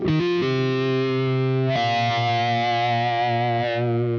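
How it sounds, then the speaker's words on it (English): Distorted electric guitar solo, played through a wah pedal that is rocked forward to accent certain notes, giving a vocal, sustained lead tone with effects, loud and continuous. "he chooses to toe that wah down and accent certain notes"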